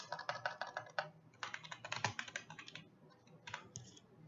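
Rapid bursts of typing on a computer keyboard, clicking in irregular clusters with short pauses, close and moderately loud with no voices.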